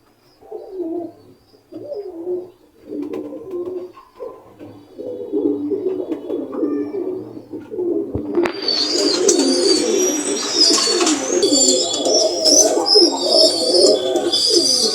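Pigeons coo steadily and close by inside a loft, layered low murmuring calls building in density, joined midway by brighter chirps and rustling from other birds.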